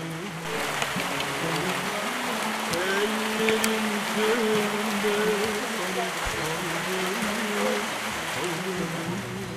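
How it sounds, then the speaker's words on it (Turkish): Steady rain falls in Darıbükü village, Turkey, a dense even patter on surfaces throughout, with low voices talking faintly underneath. "Sohbetimizi sürdürürken güzel bir yağmur başlıyor Darıbükü'de."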